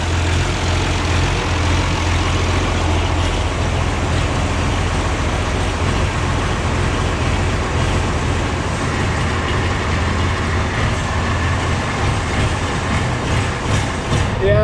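An engine on a hay-mowing farm machine idles steadily and loudly after its idle screw is adjusted, a constant low rumble with no break.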